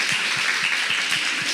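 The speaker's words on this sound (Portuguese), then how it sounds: "Essa é pra aplaudir." Church congregation at a women's event applauding briefly, a steady wash of clapping that continues throughout without any voice over it.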